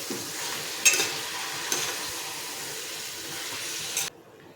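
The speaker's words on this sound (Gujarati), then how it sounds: "બધું જ આપણે મિક્સ કરી લઈશું" Ripe mango curry with jaggery is stirred in a hot pan, giving a steady sizzling hiss with a couple of sharp scraping knocks before it cuts off near the end.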